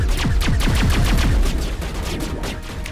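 Rapid automatic gunfire during Mass Effect video game combat, loud close bursts of repeated shots in quick rhythm, tapering slightly toward the end.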